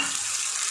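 Vegetables sizzling in hot spiced oil as potato pieces go into the pan, a steady, dense frying hiss with no pauses, close and even throughout.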